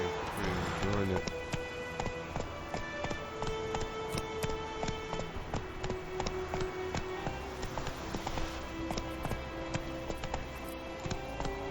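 A horse gallops in an Xbox video game with rhythmic, quick hoofbeats over a tonal game soundtrack, while a voice talks over the action.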